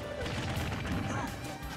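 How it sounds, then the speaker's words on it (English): Forward smash hits in a Super Smash Bros. for Wii U grand finals match, heard as a crash and thwack over a busy, loud background of game sound and crowd noise. "Ooh, another forward smash."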